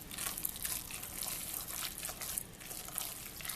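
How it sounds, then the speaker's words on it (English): Liquid being stirred into wonton filling, a steady wet squelching and sloshing with crinkly texture throughout, close and fairly quiet, no talking. "And stir it in"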